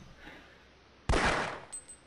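A single loud gunshot burst from the video game Half-Life, sharp and close, preceded by quiet background and trailing into a brief metallic ring.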